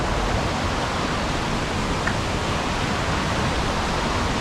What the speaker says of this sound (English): Really soft sounding set of falls.